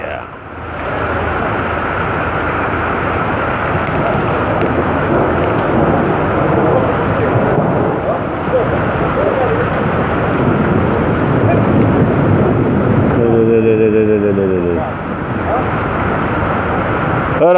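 A thunderstorm with heavy rain during flooding rains in Egypt during Cyclone Shaheen makes a loud, steady roar of downpour with deep rumbling throughout, and a brief tonal, voice-like sound rises near the end.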